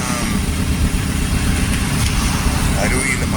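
A car with a worn wheel bearing drives along with a steady, loud low rumble and road drone beneath, while people talk over the noise.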